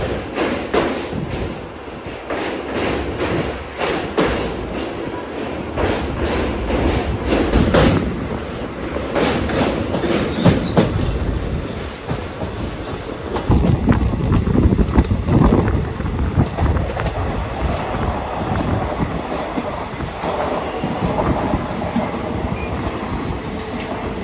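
Guruvayur Passenger train running on rails between Ernakulam and Guruvayur, heard from on board: a loud steady rumble with rhythmic clatter of wheels over joints, shifting into a rougher roar with faint squeals, no speech.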